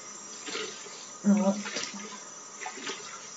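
Running tap water rinses a make-up brush and sponge in a sink, a soft splashing flow with brief louder gushes, heard up close.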